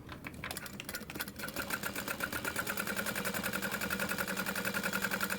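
A sewing machine stitches across the bottom of a fabric wristlet, starting with a few hesitant bursts and then settling into a fast, even, rhythmic clatter, close up and on its own.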